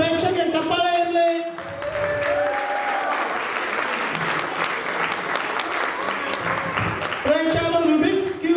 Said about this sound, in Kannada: ಎಲ್ಲರೂ ಪ್ರೇಕ್ಷಕ ಚಪ್ಪಾಳೆ ಇರಲಿ.